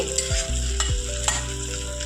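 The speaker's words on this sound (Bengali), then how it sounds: "একটু তেলের মধ্যে হালকা করে ভেজে নেব" Onions frying lightly in a little oil in a pan for a Bengali egg dish, a steady close sizzle with brief stirring scrapes and clinks over it.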